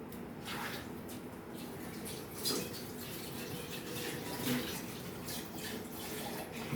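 Dishes are washed under a running tap, a steady close rush of water with occasional clinks and splashes, at moderate loudness.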